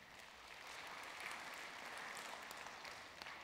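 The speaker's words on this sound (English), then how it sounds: "Give yourselves a round of applause for that." Church congregation clapping together, a soft, steady wash of applause heard from some distance, even and continuous throughout, with no one speaking over it.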